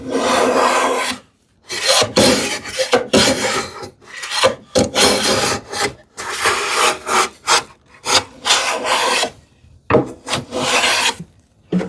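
A hand plane takes uniform shavings from wood for a drawer back on a TV unit, in a run of rhythmic rasping strokes with short pauses between them, close and clear with no talk.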